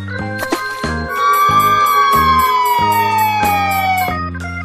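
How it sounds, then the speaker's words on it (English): A fire truck siren wails loudly close by, a long sliding tone that falls slowly, over a steady rhythmic music-like beat of repeated pulses. "Fire truck."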